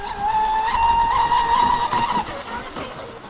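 A ProBoat Sonic Wake 36 V3 RC speed boat screams past on a flyby, its high, whining motor note holding loud and steady, then easing off as it pulls away, with a voice speaking over it.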